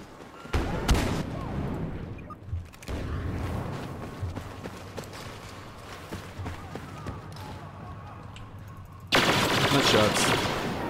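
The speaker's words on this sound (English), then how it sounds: "Shots." Blaster fire in the Star Wars Battlefront shooter game, repeated bursts of shots over a rumbling battle backdrop, moderately loud, with a louder volley near the end; voices are mixed in.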